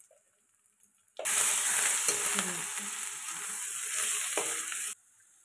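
Beaten sour yogurt poured into meat frying for a midday special meal, setting off a loud, steady sizzle that runs for several seconds and then cuts off abruptly, with no talking.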